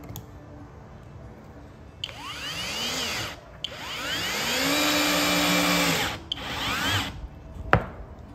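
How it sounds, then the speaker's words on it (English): A cordless brushless drill set to clutch setting 15 boring straight into wood, its motor whining up and down in pitch through two long runs separated by brief pauses, loud and close with no talking. "we're just gonna drill straight in."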